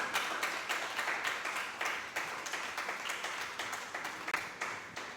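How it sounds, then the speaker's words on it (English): An audience at a professional-skills talk gives a steady round of applause, many hands clapping in a fairly even rhythm at moderate distance, with no speech over it. "A round of applause for her."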